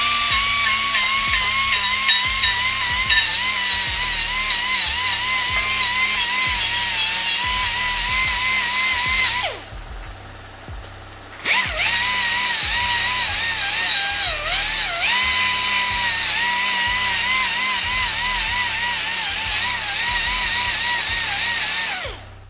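A high-pitched power tool whines steadily while skimming stubborn gasket material off a Kawasaki 250R motorcycle engine case, with a brief stop and restart midway and a loud, close grinding tone throughout.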